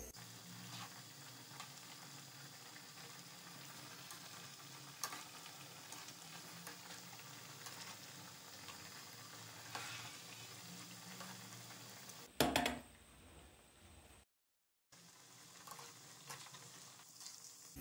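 Homemade chicken nuggets deep frying in oil give off a quiet, steady sizzle for most of the stretch, then a louder clatter of handling and a brief drop to silence before the frying resumes.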